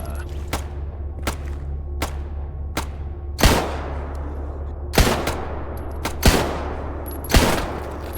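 Gunfire in the modded shooter STALKER: GAMMA: sharp single shots, some faint and distant, others louder and close, spaced irregularly over a low steady hum.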